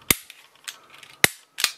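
Canik TP9 DA pistol, decocked, dry-fired in quick succession: four sharp, loud mechanical clicks of the trigger and striker at uneven intervals, with a fainter click between the first two.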